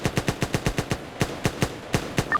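Video game gunfire during a police role-play session: a rapid, evenly spaced automatic burst of loud shots, a short pause, then a few more shots.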